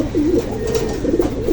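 A hen pigeon cooing close by, a few low rolling coos repeating back to back over a short stretch, no voices.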